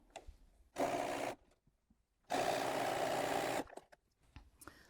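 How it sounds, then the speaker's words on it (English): A sewing machine stitches layer cake quilt squares together in two bursts, a short run and then a longer one, separated by near quiet with faint handling noises. "You would sew them all together until all of your squares are joined back together again."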